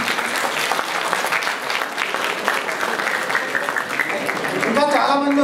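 Applause from the audience at a Telugu community Ugadi 2013 celebration: a sustained crowd of hands clapping, moderately loud, with a voice speaking over it toward the end.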